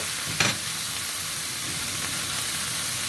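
Ginger, garlic and green chili paste frying in a pan for a chicken dish: a brief louder sizzle burst as it hits the oil, then a steady, moderately loud hiss throughout.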